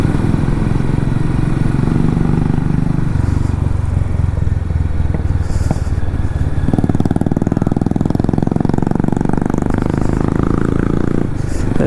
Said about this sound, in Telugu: సైలెన్సర్ నుంచి సౌండ్లు అయితే మామూలుగా రావు అనమాట మన సైడ్